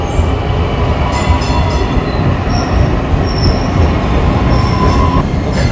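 A train at a station in Dallas gives a loud, continuous rumble with steady rolling noise and faint high squeals from the wheels, with no voices.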